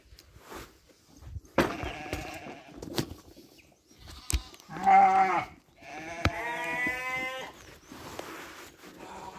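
Sheep bleat repeatedly during a release on a farm, several loud nearby calls spaced out with pauses, plus faint shuffling and footsteps between them.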